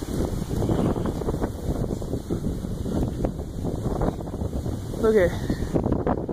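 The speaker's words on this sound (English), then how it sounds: "this is really... really windy all of a sudden too" Strong gusting wind ahead of a storm, with yellowish-green clouds and rain approaching, buffets the microphone in a steady loud roar while someone talks over it.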